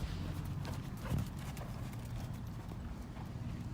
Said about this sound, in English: the horse that just trotted by the camera